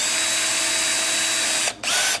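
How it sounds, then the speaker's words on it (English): A power drill spins a small brass wire brush to scrub gummy crud off parts of a lever arm shock being rebuilt. The whine is steady and close, then cuts out briefly and revs back up. "a little wire thing that I put in my drill"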